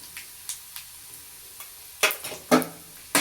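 Turmeric frying in oil for poha chivda, a faint low sizzle punctuated by sharp scraping strokes of a spoon, a few light ones followed by several louder stirs toward the end.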